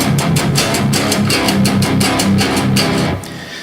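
An electric guitar plays a fast, rhythmic solo riff with repeated picked notes, loud and driving, ending with a brief fade.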